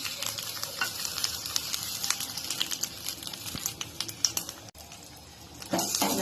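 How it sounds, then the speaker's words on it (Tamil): Dried red chilies, curry leaves, urad dal and cumin crackle and sizzle in a hot pan for a spinach lentil kootu, a busy popping fry with quick stirring clicks throughout. "காஞ்சி மிளகாய் கருவேப்பிள்ளையும் உளுத்தம்பருப்பும் போட்டிருக்கேன்"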